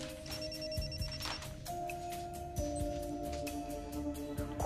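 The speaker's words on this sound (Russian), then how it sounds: "И вот прямо сейчас звонит Воронцову" A telephone rings repeatedly in an office setting at a heater sales company, its electronic ringtone sounding in a steady pattern over a busy background of low hum and faint noise, with no voices.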